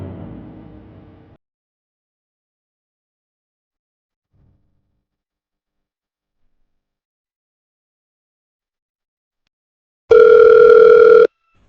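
An outgoing phone call: after a short burst of noise and a long silence, a loud electronic ringback tone sounds once for about a second and a half near the end.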